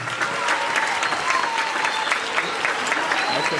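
A crowd gives loud, sustained applause and cheers to welcome a delegation at a formal gathering. The clapping is dense and even throughout, close and filling the space.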